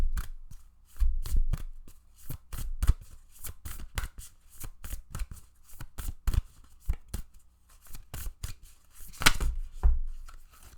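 White Light Oracle cards shuffled by hand for a card reading, giving a long run of quick, crisp riffling and slapping bursts in an uneven rhythm, close and clear with no talking.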